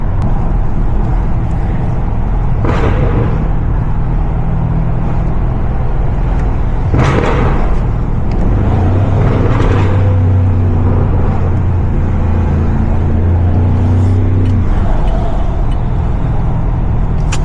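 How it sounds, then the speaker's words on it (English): A BMW M550i's engine drones inside the cabin while driving, with low rumbling exhaust and occasional sharp crackles and pops rising over the steady road noise. "I hear the crackles and I hear the pops. It does sound amazing."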